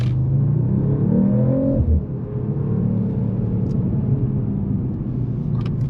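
A 2024 Mercedes-AMG CLE 53 Coupe's engine revs up, then settles into a deep, steady rumble, close and fairly loud with no talk.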